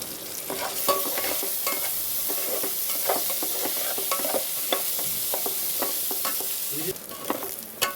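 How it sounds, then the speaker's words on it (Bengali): Rice being stirred in a pan for Bengali basanti pulao with ginger and cashews, a steady sizzling fry broken by scraping, clicking stirs of a utensil against the pan, close and alone. "চালটা একটু ভালো করে নেড়ে নিয়েছি।"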